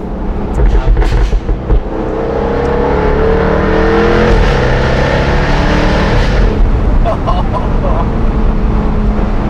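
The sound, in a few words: Jaguar F-Type R supercharged V8 engine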